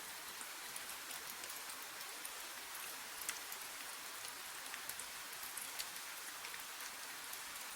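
Gentle rain falls steadily, a soft and even patter with faint scattered drops, continuous and alone with no voices.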